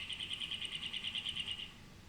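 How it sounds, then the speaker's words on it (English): Cactus finch song as a fast, regular series of about fifteen high buzzy chirps in a steady trill lasting under two seconds, clear and fairly close, then quiet. "This is what a cactus finch sounds like."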